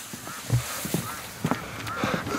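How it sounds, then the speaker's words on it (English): Ducks at a lakeside on a bright day give several short honking quacks at near range over steady outdoor background noise. "Hello, ducks!"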